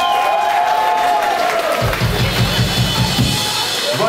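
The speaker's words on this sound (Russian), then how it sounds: "Давайте аплодируем Ване" Applause from a live club audience at a rock concert in Moscow, steady crowd clapping filling the room at moderate loudness, with a low rhythmic thump emerging partway through.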